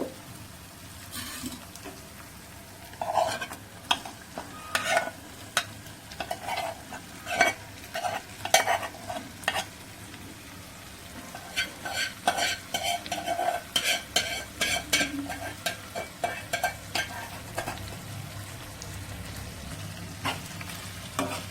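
Boiled prawns frying with onions and garlic paste in a pan for a Telugu-style prawn fry, steady sizzling under repeated scraping and stirring strokes of a spatula, close and continuous.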